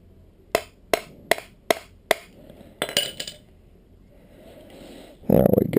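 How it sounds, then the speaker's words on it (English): A hammer striking a punch tool to put a hole in a homemade steady cam rig part: five crisp, evenly spaced metallic blows, a couple of quick follow-up knocks, then a short rustle. "grab my hammer"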